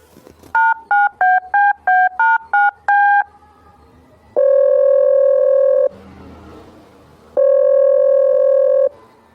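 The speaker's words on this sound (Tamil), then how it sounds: "ம் ரிங் போகுது" A quick run of touch-tone dialing beeps, then two long electronic ringback tones separated by a pause of faint room noise.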